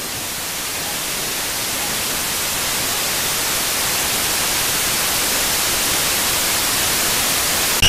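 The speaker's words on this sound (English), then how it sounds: "If you fail the mission, you get a static screen, a la Slender for the PC." Static screen noise after failing a mission in a video game: a steady, loud wash of hiss that swells slightly and runs unbroken with no talk.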